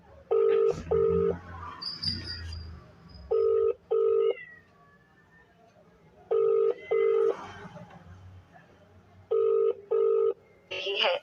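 A telephone is dialed to reach a police officer: pairs of sharp keypad tones come in several bursts between quiet gaps, with faint background sounds and some chirps between them.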